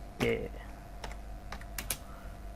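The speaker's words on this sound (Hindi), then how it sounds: "तो यहाँ पर मैं सबसे पहले लिख लेता हूँ टास्क TASK" Typing on a computer keyboard during an e-commerce exercise, with a handful of separate clicks and short bursts of keystrokes spread across a few seconds, fairly quiet and close with no talk.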